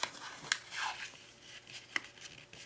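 A 3-inch paper square is folded corner to corner for a craft snowflake, with soft crinkles, creases and light taps of paper handled close up, quiet and intermittent.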